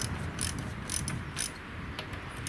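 A wrench ratchets against the rear brake wheel cylinders on a Buick Wildcat rear end, short repeated clicking bursts up close at an uneven rhythm over a dull background hum.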